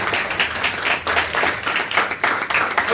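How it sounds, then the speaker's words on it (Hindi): A congregation at a Hindi Christian sermon applauds, a dense, steady wash of clapping that holds at an even level for the whole stretch, with no voices over it. "उनके लिए हम तालियां बजाएंगे"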